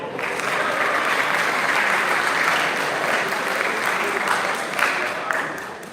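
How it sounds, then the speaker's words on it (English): A large crowd claps steadily at a college athletics awards ceremony honoring academic all-district athletes, a full, even roar of hands with a few sharper claps standing out near the end. "Can we get one more round of applause for our academic all-district award winners?"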